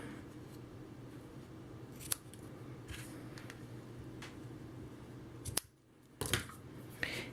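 Scissors trimming the edges of a paper card, several crisp separate snips spaced a second or so apart over a quiet room background, close and clear with no speech.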